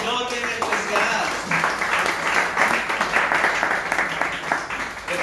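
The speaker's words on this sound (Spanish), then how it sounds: "Nosotros le damos un aplauso al Señor bien especial." A church congregation at a Spanish-language worship service claps in praise, a continuous rolling wash of hands with a voice speaking over the top and what sounds like music underneath.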